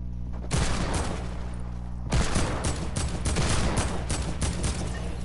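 Rapid bursts of video game gunfire in a duos battle royale match, loud and close, with two dense volleys separated by a short pause and sharp individual shots cracking through.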